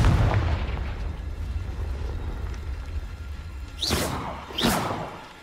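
Fire spell explosions in the video game Hogwarts Legacy: two sharp bursts near the end, each a loud whooshing blast with a short rising crackle, over a steady low rumble of background game noise.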